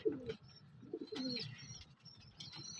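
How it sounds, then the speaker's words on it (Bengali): Pigeons coo steadily at close range while being fed during the rainy season, soft throaty calls repeating over a low rustle, with a few brief higher chirps from other birds. "বর্ষার জন্য পায়রাগুলো ওকেই খেতে দিতে হলো আজকে"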